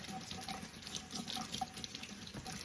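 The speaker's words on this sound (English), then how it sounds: "So I'm gonna go ahead and I'm filling up this quart jar." A quart jar fills from a kitchen faucet, steady running water splashing close by with slight bubbling changes throughout and no voices.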